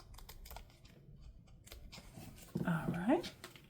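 Scissors trimming washi tape on a junk journal page: a few short, close snips near the end, following quiet crafting noises and soft talk.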